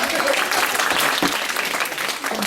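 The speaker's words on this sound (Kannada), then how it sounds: "ಕರೆಕ್ಟ್ ಆಗಿ ಚಪ್ಪಾಳೆ ತಟ್ಟಿದ್ರು" Audience applause at a Kannada community gathering, dense steady clapping from many hands throughout, loud and close, with no pauses.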